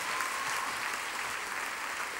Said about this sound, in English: Give the Lord another clap